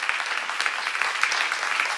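An audience at a church seminar claps together, a dense, even patter of many hands that stays steady and fairly close throughout.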